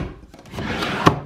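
A small wooden drawer in a wardrobe holding shoes slides open with a short rubbing scrape and ends in a light knock, close up and quiet.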